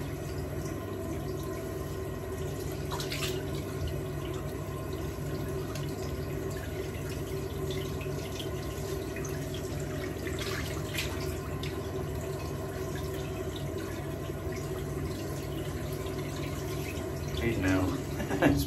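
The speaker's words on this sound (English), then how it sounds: "Let's clean off the face here with really cold water" Cold tap water runs steadily into a sink while a face is rinsed after a shave, a continuous close splashing wash with small drips and faint movement, no distinct voices.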